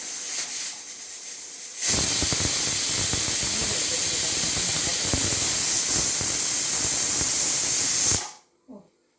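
A pressure cooker cooking jackfruit seeds lets out a loud, steady rushing hiss of steam for about six seconds before cutting off abruptly, preceded by a quieter simmering hiss.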